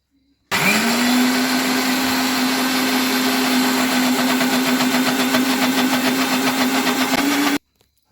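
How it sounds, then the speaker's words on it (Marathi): Mixer grinder blending soaked dosa ingredients with water; the motor kicks in abruptly, whines steadily with a constant pitch and a rough grinding churn for about seven seconds, then cuts off sharply into silence. "आणि आता ही घेतले मिक्सरमध्ये, ही बारीक करून घेऊया।"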